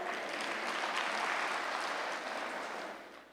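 Applause from the audience at a Brahma Kumaris spiritual talk, a full steady wash of clapping that holds evenly and then tapers off at the end, with no voices over it.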